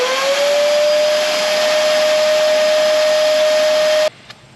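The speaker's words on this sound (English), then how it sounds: "Turn on the vacuum, and we should be good to go" A vacuum runs loud and steady with a high whining tone, pulling string through a buried pipe, then cuts off abruptly near the end leaving faint rattles.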